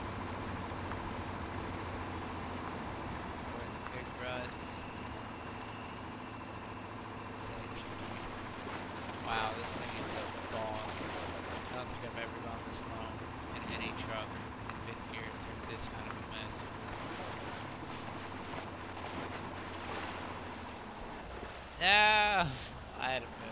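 A K700 truck in MudRunner ploughs through deep water with a steady churning, sloshing rumble that runs throughout at moderate loudness, with a brief sharper splash near the end.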